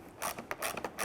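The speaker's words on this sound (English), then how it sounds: "you're going to use a 7mm socket and ratchet, loosen and remove" A 7mm socket and ratchet loosen the grille screws on a 1994-2004 Ford Mustang front bumper cover, making quick, close, rapid ratchet clicks in several short bursts.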